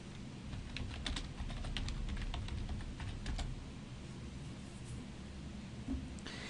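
Quiet typing on a computer keyboard while writing an awk script, with bursts of soft rapid key clicks, then sparser taps and pauses over a faint background hiss, no voices.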